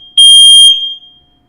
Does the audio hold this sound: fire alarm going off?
yes